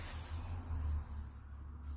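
Short hissing bursts of WD-40 aerosol spray close by on a Kawasaki ZRX motorcycle, over a low background hum, briefly cutting off near the end.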